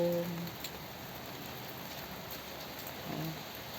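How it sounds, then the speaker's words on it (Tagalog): Steady rain falls over a small apartment garden with fruiting tomato and eggplant plants, a continuous soft hiss of drops at moderate distance with no talk. "Nag-ulan ngayon dito sa amin guys. Ulan ang panahon."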